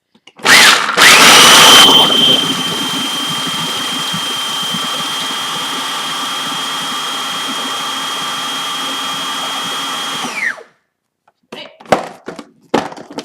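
A food processor pulses pesto ingredients: a harsh attack, then a steady high motor whine with rattling chop that holds for about nine seconds before cutting off, followed by a few clattering knocks.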